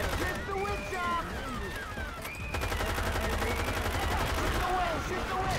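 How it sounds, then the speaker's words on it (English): Rapid gunfire in the Left 4 Dead 2 video game, aimed at the witch, forms a dense, continuous rattling burst under excited players' voices and game sounds. "I shoot the witch up!"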